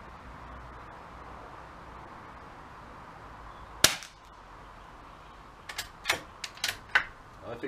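A .22 rifle fires reduced-power subsonic rounds outdoors: one sharp crack, then after a pause a quick run of several snappy, fairly quiet pops close by over a low background hum.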